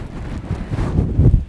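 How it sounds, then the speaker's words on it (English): Strong wind buffets the microphone in loud, rumbling gusts that swell and surge over a second or so, with no voices. "That's how windy it is."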